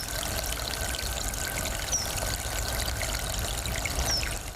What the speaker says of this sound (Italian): Il suono inconfondibile di una sorgente, che però non è una sorgente qualsiasi, è la sorgente termale dimenticata di Pieve del Grappa